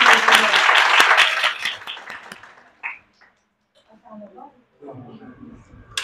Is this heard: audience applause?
yes